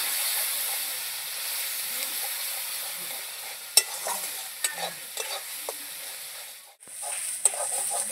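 Spices with turmeric and salt are stir-fried in a pan, giving a constant sizzle broken by spatula scrapes and taps. The sizzle briefly dips before resuming.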